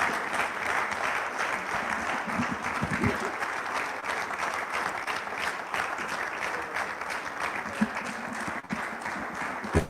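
Sustained applause from a conference audience at a Nigerian forum event, dense steady clapping filling the space at an even level for the whole stretch with a few sharper individual claps standing out.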